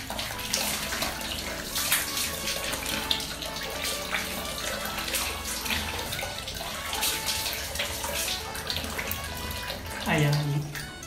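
Steady running tap water splashing at a sink while a face is rinsed, a continuous close hiss with small sloshes throughout and a brief louder gush near the end.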